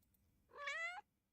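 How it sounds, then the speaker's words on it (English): A single short cat idle meow sound effect intended for a game, clear and fairly quiet, rising and falling over about half a second with no other sounds around it. "can we use any of these cat idle sounds?"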